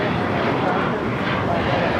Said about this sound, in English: A350 with Delta touchdown here on the south side